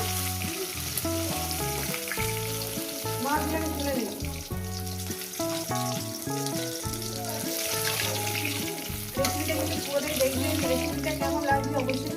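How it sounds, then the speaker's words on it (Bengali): Tilapia fish fries in hot oil in a pan, giving a loud, continuous crackling sizzle that runs under tonal background music throughout. "মাছটা আমার ভাজা হয়ে গেছে"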